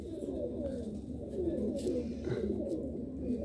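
A breeder pair of Golden and Sialkoti pigeons coo nearby in soft, low, rolling murmurs that overlap continuously.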